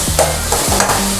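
Chilli powder being stirred and sautéed in a pan for paneer dosa, a loud close sizzle with a few quick scraping strokes of a spatula, no talking.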